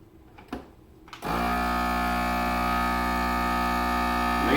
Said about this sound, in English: And then we'll use the food processor.